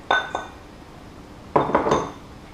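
Cooked sweet potato is mashed in a bowl, with sharp utensil clinks against the bowl in two short bursts, one near the start and a busier cluster a moment later, with quiet between them.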